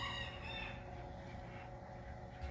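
Chickens cluck softly near their coop as they get ready to roost, a faint, brief burst of fowl calls at the start over a quiet background hum.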